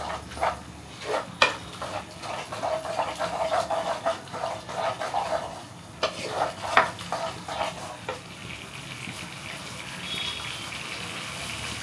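Chilli chicken is stirred and mixed in a pan with soy sauce, giving a soft sizzle under scattered scrapes and knocks of a spoon, moderately close and fairly quiet.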